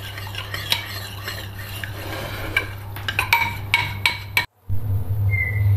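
A spoon stirs tomato paste into meat broth in a metal pan, with repeated scraping clinks and light sizzling, then a brief pause before the gentle simmer resumes.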